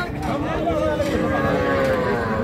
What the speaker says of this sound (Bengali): তবে এইটা কিন্তু ক্রস জাতের বকনা বাছুর।